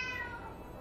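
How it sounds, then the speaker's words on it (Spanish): A black cat in the Fighting Fantasy Legends video game lets out a single short, falling meow, clear and close against quiet background noise. "Se nos cruzó un gato negro"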